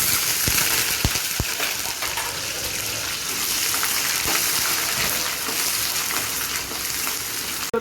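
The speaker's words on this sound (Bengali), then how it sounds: "এখন আমি এই তেলের মধ্যে পেঁয়াজ কুচি দিব।" Chopped onion frying in hot oil with bay leaf, dried chilli and cumin for Bengali ghugni, a steady loud sizzle throughout with a few sharp pops and clicks of stirring.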